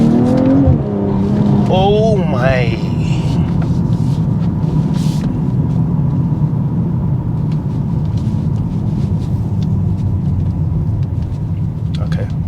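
Tuned BMW M240i xDrive with a tuning box kicks down and accelerates hard, the engine rising through a loud revving sweep before settling into a steady road rumble, with a voice exclaiming inside the cabin.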